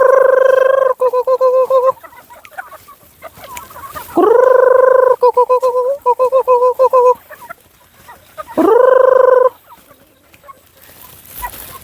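Free-ranging chickens out of their coop cluck close by, with a rooster crowing loudly two or three times, each crow rising sharply and followed by rapid, stuttering clucks.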